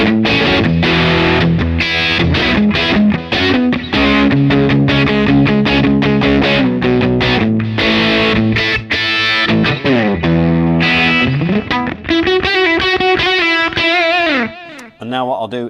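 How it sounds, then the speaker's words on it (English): An electric guitar played through a Laney Monolith distortion pedal with the drive turned down to cut compression. Loud, continuous distorted chords and riffs ring out up close, with brief pauses near the end. "rolling the drive down a little bit, just to kind of reduce the level of compression, reduce the level of distortion, make the guitar sound a little bit more open"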